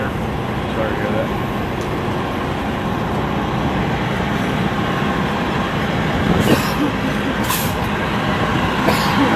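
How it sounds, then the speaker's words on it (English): City buses pass close by on a Las Vegas street, a loud continuous engine roar and road rumble that swells toward the end, with a few faint higher squeals. "As you can probably not hear me now with the buses."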